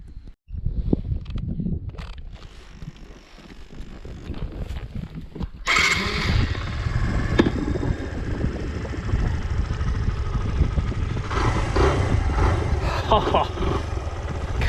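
A Suzuki VanVan RV125/RV200 motorcycle engine is started after some fumbling and clicking, then keeps running with a steady, buzzing idle close by.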